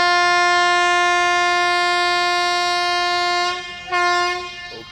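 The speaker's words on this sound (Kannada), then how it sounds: "ಓಕೆ ನಮ್ಮ ಟ್ರೈನ್ ಹೊರಡ್ತು" A loud sustained train horn blares for several seconds as the train departs, then cuts off and sounds again briefly near the end, with rail rumble underneath.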